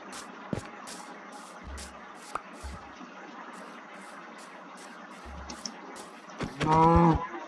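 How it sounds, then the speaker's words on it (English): A Minecraft cow lets out a loud, close moo near the end, following scattered blocky game footstep and effect sounds over a steady low background hum. "And a moo moo."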